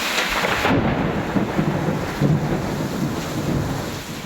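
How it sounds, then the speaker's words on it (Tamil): Heavy rain driven by strong wind, with buffeting gusts roaring over the microphone in a continuous dense wash; no separate hail impacts stand out. "பலத்த காற்றுடன் கனமழை பெய்த நிலையில் முத்துலாபுரம் பகுதியில் சூறாவளி காற்றுடன் ஆலங்கட்டி மழை பெய்தது"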